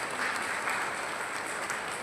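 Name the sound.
audience applause at hall inauguration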